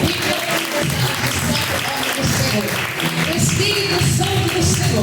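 Congregation applause at a live IPDA church worship service, a dense continuous wash of clapping mixed with voices and music throughout.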